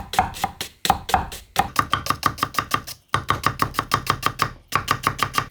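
A knife finely slices green onion for a Korean side dish, giving close, quick, rhythmic chopping strokes on a board in several steady bursts with brief pauses between them.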